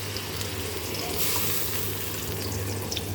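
Onion paste frying in oil in a pan for a Bengali prawn malai curry, a steady, close sizzle that holds through the clip with a brief swell of hissing midway, no speech.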